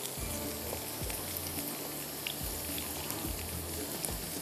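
Food for aloo chana chaat frying in a pan, a dense steady sizzle with low bubbling pops throughout, close and even, no voices.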